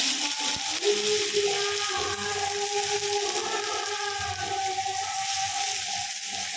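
Ginger dropped into hot oil in a pan over raised heat, giving a steady, fairly loud hiss that holds evenly throughout with a faint underlying hum, no voices.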